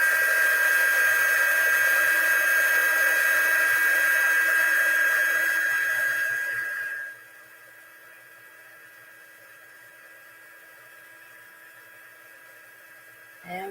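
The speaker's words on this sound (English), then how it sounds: "I'm going to use the heat tool on high." A heat tool running on high blows a steady, close hiss and whine while melting gold embossing powder, then cuts off halfway, leaving quiet room tone.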